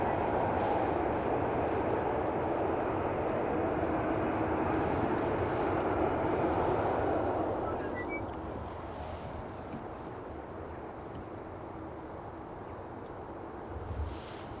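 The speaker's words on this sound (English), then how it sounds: "Next up is British Airways Flight 430 coming in from London Heathrow, a 22-year-old A319." A 22-year-old British Airways Airbus A319 arriving from London Heathrow and landing on runway 18R at Amsterdam Schiphol on a calm, hazy, overcast day. Its broad, steady jet roar fills the first half, then fades to a lower, distant rumble.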